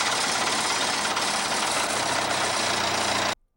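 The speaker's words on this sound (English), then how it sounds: "Farmer Brown decided to turn on the tractor" A farm tractor engine runs loud and steady with a dense, rumbling drone that holds evenly for several seconds and then cuts off abruptly, no voices.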